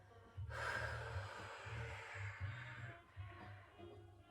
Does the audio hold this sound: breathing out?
yes